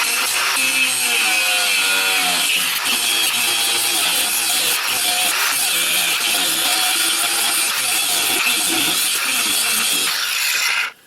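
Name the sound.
grinder grinding the head off a stabilizer bar bolt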